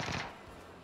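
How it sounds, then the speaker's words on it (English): A double-barrel shotgun fires once in a video game: a single loud close blast with a quick decaying tail, alone and with no talking. "A double barrel shotgun."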